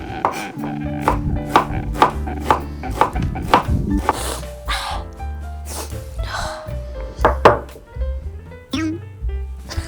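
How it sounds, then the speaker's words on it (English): A knife chops onions on a cutting board in quick, rhythmic thunks, close and clear, while a person talks over the chopping. "So, cutting onions."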